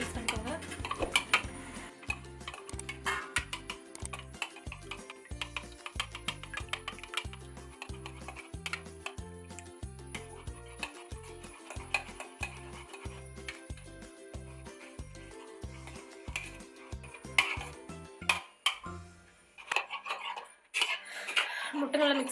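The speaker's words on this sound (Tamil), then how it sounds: "முட்டை நல்லா மிக்ஸ் பண்ணிட்டேன்." Seven eggs being whisked in a bowl with a utensil, giving a quick, regular clicking and tapping rhythm close by that keeps going for a long stretch before slowing and breaking off, followed by a few clatters.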